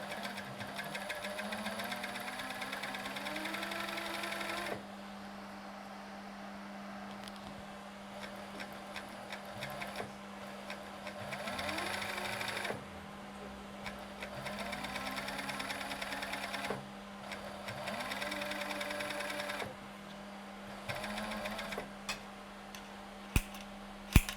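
An industrial sewing machine stitches the front and back panels of a hemp t-shirt together, running in steady whirring bursts of several seconds with short pauses between passes, alone without talk.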